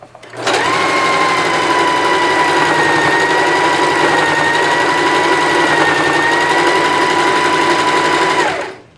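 A Singer 5554 heavy duty sewing machine runs at high speed and steady pitch for about eight seconds of continuous loud whirring stitching. It starts and stops abruptly, close by and with no voice.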